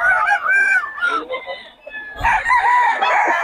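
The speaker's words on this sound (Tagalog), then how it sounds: "Puro solid na mga manukong Boss Tony ngayon mga idol." Fighting cocks crowing and clucking up close, loud overlapping crows with short clucks between them, and voices talking in the background.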